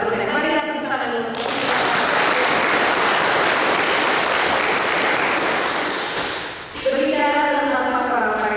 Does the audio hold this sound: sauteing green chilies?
no